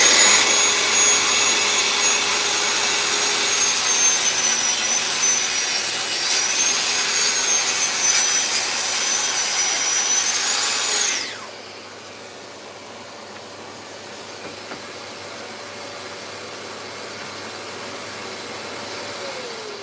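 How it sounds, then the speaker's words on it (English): A Festool circular saw rips through oak along a guide rail with no dust extractor attached, a loud steady whine for about eleven seconds that cuts off sharply, followed by a quieter lingering hum. "As you can see, that saw flies through the cut."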